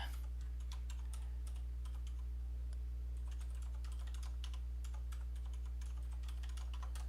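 Fast, continuous typing on a computer keyboard while writing Emacs Lisp code, the keys clattering in irregular bursts over a steady low electrical hum.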